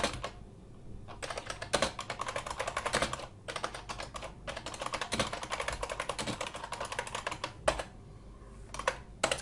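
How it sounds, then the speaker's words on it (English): Fast typing on a computer keyboard while a name and company are entered during Windows 98 setup: dense bursts of close, light key clicks with short pauses between runs. "So now you actually have to type in your name,"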